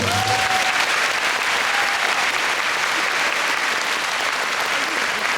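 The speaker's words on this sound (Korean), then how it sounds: "박수 한번 주세요" Steady, dense applause from an audience at a fan event screening, continuous and even throughout with no pauses.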